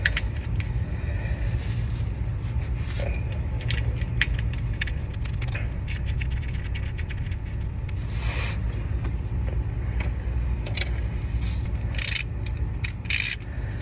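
Drain plug being reinstalled on a 2016 Ford Focus SE oil pan, heard as a run of quick ratcheting clicks and small metallic taps close by over a low background hum, with a few louder clinks near the end.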